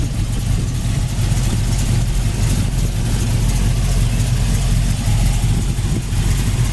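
A Chevy 350 V8 with a four-barrel carburetor and headers idles steadily nearby, a loud, low, continuous rumble with a smooth even rhythm and no talking.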